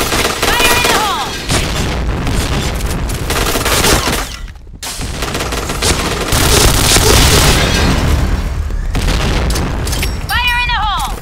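Grenade blasts and gunfire boom through a Point Blank firefight, loud and dense, with shouted in-game voices over the battle noise.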